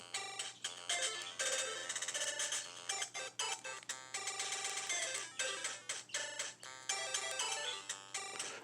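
Pocket Operator synthesizer patterns playing with effects: dense, bright electronic beeps and stuttering rhythmic hits pulse continuously over a low steady hum, loud and busy, with no talking.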